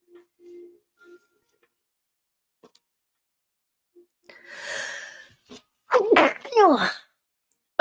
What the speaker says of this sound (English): Sneezing like crazy right now.